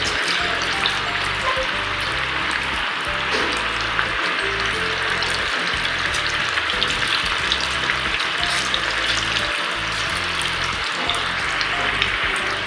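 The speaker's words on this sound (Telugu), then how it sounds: "ఆయిల్ హీట్ ఎక్కింది కదా, ఇప్పుడు దీంట్లోకి వేసేసుకుందాం. ఒక్కొక్కటిగా వేసుకుందాం. మీడియం ఫ్లేమ్లోనే ఫ్రై అవ్వనివ్వాలి." Chicken pakoda pieces deep-frying in hot oil over a medium flame, a steady dense sizzle and bubbling that runs unbroken throughout, close and fairly loud with no voices.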